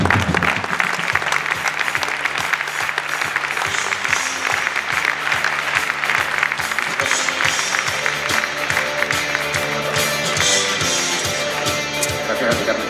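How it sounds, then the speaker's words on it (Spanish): A large audience at a business conference applauds Carmen, with dense, sustained clapping at a steady level throughout and music audible underneath. "un fuerte aplauso a Carmen."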